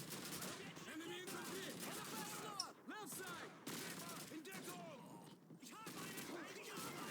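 Call of Duty 2 gunfire: repeated shots and bursts at moderate distance, with someone talking over the shooting.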